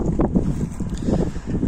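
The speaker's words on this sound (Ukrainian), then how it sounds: "Вітер сьогодні" Steady wind rushing and buffeting close to the microphone in a farm field during disking with an MTZ-80 tractor, a continuous low roar with no voices.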